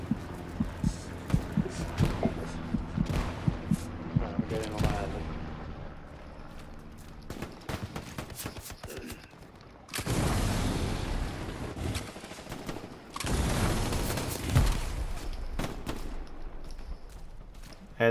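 Anti-tank weapon fire in the console shooter Hell Let Loose: loud, booming blasts and impacts amid a dense, chaotic battlefield mix, with a sustained roaring burst partway through.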